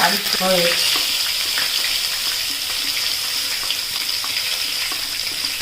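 Mustard seeds and stuffed cucumber fry in a pan with a loud, continuous sizzle and crackle, a few bright pops of seeds at the start, and no talking.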